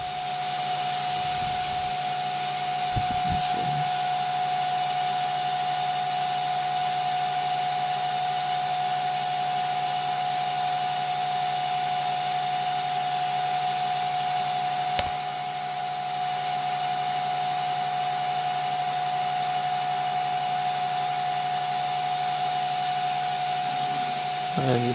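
A Hyper Drive motor on a TI controller is held under heavy torque and braked, giving a steady loud whine with a sustained tonal hum throughout and a few brief clicks near the start and middle.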